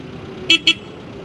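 Horn of a 1994 Geo Tracker two-door convertible 4x4: two short, bright honks in quick succession, close and clear over a faint low background hum.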